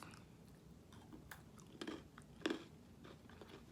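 Close, quiet crunching of bacon-flavored Polish pretzel sticks, with a few crisp bites and chews standing out in an otherwise hushed stretch.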